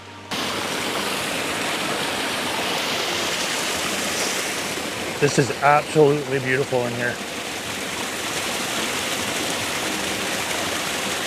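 A small woodland waterfall and runoff stream rush steadily, a broad constant wash of water noise filling the whole stretch, with someone speaking briefly partway through.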